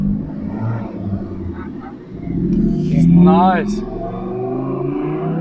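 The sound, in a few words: Hyundai i30N car revving and accelerating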